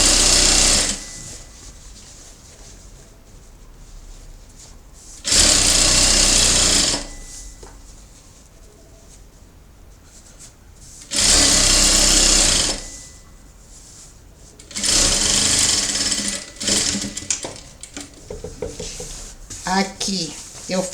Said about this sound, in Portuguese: Marco e costuro até aqui